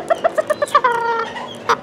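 A small rooster, roughly 435 grams, gives a string of quick, close clucks in a steady rhythm while standing on a scale, ending in a drawn-out squawk and one last cluck.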